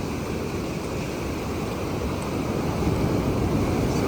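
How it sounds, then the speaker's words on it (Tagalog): Big ocean waves crash onto a beach in rough weather, a continuous loud roar of surf mixed with wind buffeting the microphone, with no voices. "lalaki ng alon"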